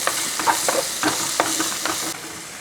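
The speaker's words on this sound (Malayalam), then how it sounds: "ഇഞ്ചി വെളുത്തുള്ളി പേസ്റ്റ് നമ്മൾ ഒന്ന് ഇളക്കി കൊടുത്തതിന് ശേഷം" Ginger-garlic paste is stirred into a dried shark chilli curry in a hot pan, making a close sizzling hiss with rhythmic scraping strokes of a spoon about every quarter second, which then fade to a softer sizzle.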